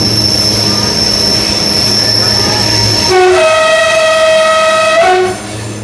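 The Translozérien train sounds its horn near a tunnel on the line out of Badaroux, loud and close, first a sustained high tone, then a second, different horn chord that blares for about two seconds over the rumble of the train.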